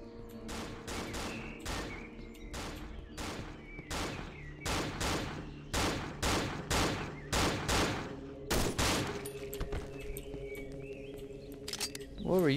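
Rapid bursts of gunfire from the horror video game Cry of Fear crack out loud and close in quick volleys, with short gaps between shots and game ambience underneath.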